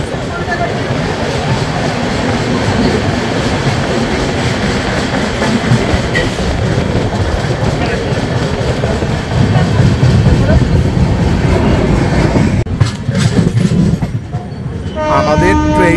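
The 13021 Mithila Express, Howrah to Raxaul, running out of Sheoraphuli Junction, heard from inside a 2AC coach: a loud, steady rolling rumble fills the whole stretch, and a horn sounds near the end.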